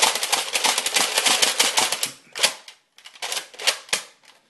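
A Nerf N-Strike Elite Alpha Trooper blaster fires rapidly, a dense run of sharp snapping shots and clacks for about two seconds, then a few louder separate shots after a pause, close and with no voices.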